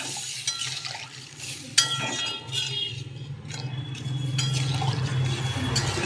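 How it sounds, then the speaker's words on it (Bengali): Water poured into a pan of fish curry with rohu and elephant foot yam, a steady close wash of liquid with occasional utensil clinks and a sharp knock partway through, no talking. "সব কষানো হয়ে গেছে, ঝোলের জন্য একটু জল দিয়ে দিলাম।"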